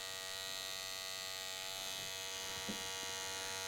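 Electric hair clipper held blade-down at the hairline during a comb-over haircut with a hard part, giving a steady close-up buzz with a faint high whine throughout and no talk.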